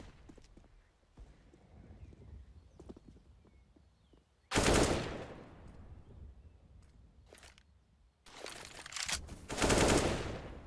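Gunfire in a competitive shooter esports match: scattered faint shots under low background noise, then a loud burst around the middle and another sustained loud volley near the end.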